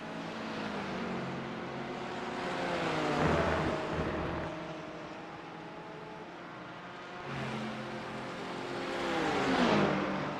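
Porsche GT4 race car engine in a Monza endurance racing game, a steady loud drone with rising and falling revs, swelling around gear changes and braking, no talk.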